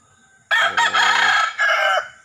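Tagalog rooster crowing loudly and close, a single long cock-a-doodle-doo with a short break midway, alone against a quiet background.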